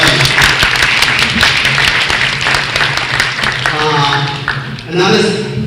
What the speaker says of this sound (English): I'd like to give them a round of applause to thank them.